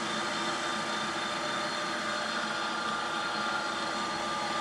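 PM 1440 HVT-2 lathe running at 1700 RPM on a facing cut with carbide tooling, giving a steady, even machine whir and hiss with no breaks.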